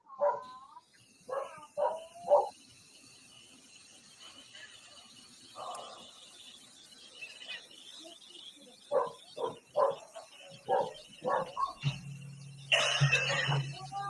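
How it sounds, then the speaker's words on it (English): Several dogs bark in short bursts and clusters, fairly near and loud, with yips between them, followed by a rumbling clatter near the end. "are you the barking dogs?"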